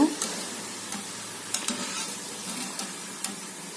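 Coconut vadai sizzling in hot oil, a steady close bubbling hiss with scattered soft clicks and stirring taps throughout, no voices.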